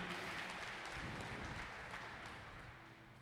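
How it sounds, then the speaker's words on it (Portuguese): Church congregation applauding during a worship service, a steady wash of clapping that stays fairly faint and distant, tapering slightly toward the end with no clear voices over it. "Pode aplaudir o Senhor Jesus bem forte"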